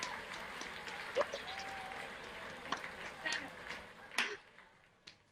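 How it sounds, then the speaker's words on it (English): Scattered claps and cheers from an online graduation audience come through unmuted microphones, uneven and thin with separate bursts rather than a unified roar, fairly faint overall. "Please unmute your microphones and applause your graduates."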